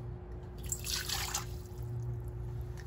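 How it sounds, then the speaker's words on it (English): One cup of water poured into an Instant Pot, a short close trickle and splash lasting about a second before fading to a low background hum. "and pour in 1 cup of water."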